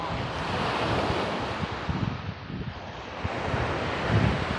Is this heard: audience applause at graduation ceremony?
no